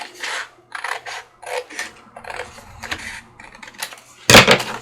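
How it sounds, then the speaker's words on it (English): Scissors trim paper craft material for a pop-up envelope box, giving a run of short rasping snips in quick bursts, close and fairly loud, ending with a sharper louder cut and no talking. "Let me just trim a smidge off."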